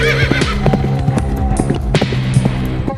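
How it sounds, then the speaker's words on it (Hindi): A frightened horse bolts in an animated folk tale, neighing shrilly over rapid clip-clop of galloping hooves, with a busy music bed underneath. "वह समझ गया कि उसका मित्र अश्व के रूप में भयभीत होकर भाग रहा है।"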